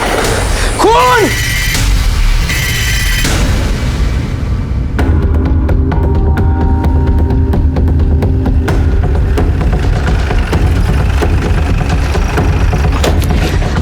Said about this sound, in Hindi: अंदर गोली चली है